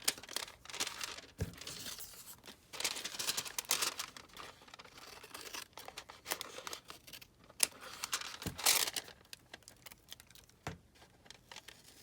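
Scissors cut around the flap of a paper junk mail envelope, a close, quiet run of crisp snips and papery rustling and crinkling that keeps going for several seconds.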